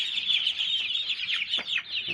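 Young laying ducklings and baby chicks on a Thai farm peep and cheep continuously in a high, dense chorus, with a few sharper individual calls rising from the flock close by.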